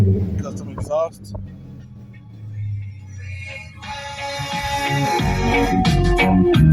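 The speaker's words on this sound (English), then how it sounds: "Custom exhaust." A 2001 Dodge Ram 2500 pickup's V10 Magnum engine rumbles deeply through a loud custom exhaust, then revs up, growing louder and rougher toward the end.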